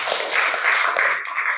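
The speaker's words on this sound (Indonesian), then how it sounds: "Oke, tepuk tangan buat kita semua." A classroom group of students claps together in a short burst of dense, overlapping hand claps that fills the room, with no voices over it.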